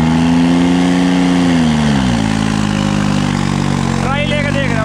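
A special edition tractor engine revs hard on trial, loud and close, with a steady roar that drops pitch midway and picks up again toward the end; a voice talks over it.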